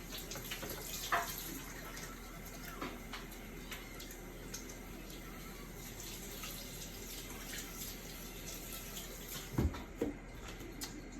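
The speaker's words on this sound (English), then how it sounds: "Wash my hands real quick." Tap water runs steadily into a kitchen sink while hands are washed beneath it, a constant hiss with a few soft splashes and a brief clatter near the end; no talking.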